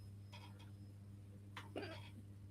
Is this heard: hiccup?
yes